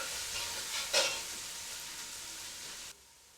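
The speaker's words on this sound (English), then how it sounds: "Mix the ingredients well and cook until the onions brown." Finely chopped red onion with ginger-garlic paste fries in a pan, giving a soft continuous sizzle with one brief scraping stir, quiet and close before the hiss suddenly drops away near the end.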